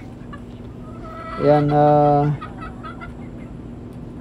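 Chickens on a farm give a loud, drawn-out harmonic squawk or call lasting about a second, standing out from a murky farmyard background.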